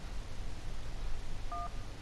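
A single short phone keypad tone sounds in the emergency-call game 911 Operator, a brief clean dual-pitch beep heard over a steady hiss of line noise.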